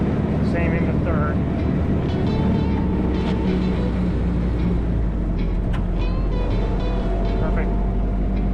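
A Willys Jeep engine drones low and steady while driving, with gear changes and clutch work, as voices talk over the rumble inside the vehicle.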